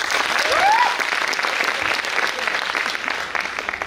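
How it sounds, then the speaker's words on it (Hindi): Audience applause at a rank achievers' promotion event, steady dense clapping from a crowd filling the room, continuous and moderately loud with a faint whistle near the start. "ताली तो बजाओ यार"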